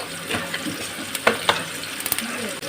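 Fennel seeds frying in a little oil, a steady close crackle with stirring scrapes and a few sharp pops.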